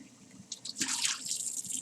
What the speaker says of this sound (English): then we shake off the water, and now we have it pretty much clean